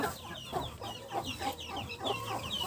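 Repeated hen clucking, a steady series of short throaty calls from a few birds close by, including a broody hen, with a low hum underneath.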